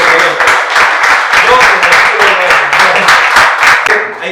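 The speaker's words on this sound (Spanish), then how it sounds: "Demos un aplauso a Jesucristo, por favor." A church congregation applauds during a Spanish-language sermon, a dense, sustained burst of many hands clapping that fills the clip at steady loudness and tapers slightly at the end.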